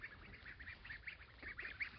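Ducks on a farm give a run of soft, irregular quacks, several birds overlapping at a modest distance against a quiet background.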